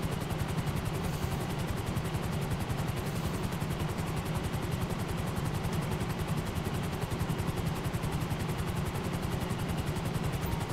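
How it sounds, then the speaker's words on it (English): A helicopter in a street racing video game gives a steady, fast rotor chop over a constant noisy drone, continuous and even throughout with no talk. "now you got a helicopter across the map"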